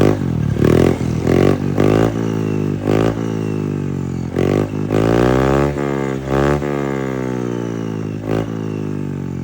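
Honda Beat V3 scooter fitted with an aftermarket KVIN exhaust pipe, revved repeatedly in short bursts; the engine note climbs and drops several times, loud and close, with no speech.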